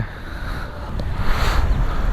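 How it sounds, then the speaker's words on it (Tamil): Steady roaring wind buffets the microphone at the seashore near Dhanushkodi, a broad rushing noise that swells louder in the second half, with no voices. "எவ்வளோ காற்று"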